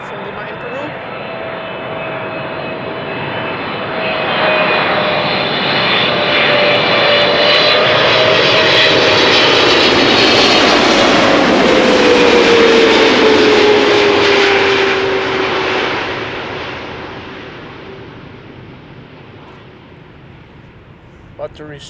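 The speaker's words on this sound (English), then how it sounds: "Let us quickly turn back to KLM flight 744, a 777-300 arriving from Lima in Peru" A KLM Boeing 777-300 arriving at Amsterdam Schiphol from Lima swells into a loud jet roar with a gliding whine, peaks overhead, then recedes as the engines fade into the distance.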